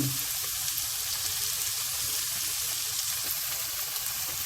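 Carrot and potato stir-fry with garlic in a pan, giving an even, close, continuous sizzle with no talk over it.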